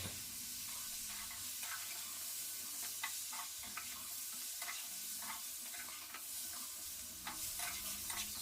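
A spatula stirs mango, bitter gourd and drumstick pieces with spices in a pan, making quiet repeated scrapes and soft clicks over a faint, continuous sizzle without any talk.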